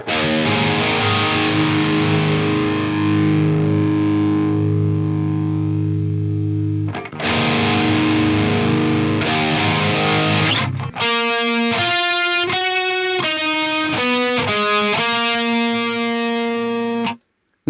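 Distorted electric guitar through a Mesa Triple Crown amp simulation with chorus effect, loud and continuous; sustained wobbling chords give way to a rhythmic run of picked notes, no talk.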